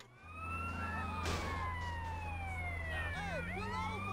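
Police sirens wail continuously while chasing the player in GTA San Andreas, steady loud rising-and-falling tones layered over a low engine drone, with a second siren joining toward the end.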